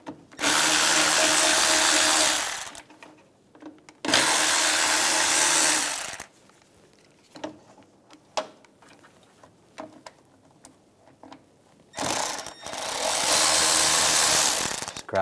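A power tool with a T20 socket backs out the fog light screws on a 2006-2009 Mercedes-Benz E350. It gives three loud, close whirring bursts of a few seconds each, with quieter clicks and handling noises in the gaps.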